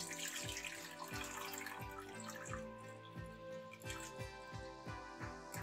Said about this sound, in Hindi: तो आप अच्छे से पानी निकालें ताकि पोहा हमारा बिल्कुल ड्राई हो जाए।